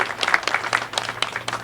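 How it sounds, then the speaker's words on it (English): Brief, uneven clapping from a small crowd at a joint ribbon cutting for Greenbox Kitchen and Jet Phynx, with individual claps standing out, close and moderately loud. "Give them a round of applause"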